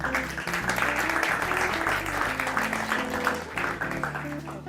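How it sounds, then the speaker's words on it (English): Applause breaks out for a woman volunteer at a magic show, with clapping running throughout over a loud musical backing with steady tones. "Let's give her a round of applause."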